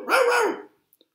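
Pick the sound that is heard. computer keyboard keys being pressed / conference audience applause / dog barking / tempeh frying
dog barking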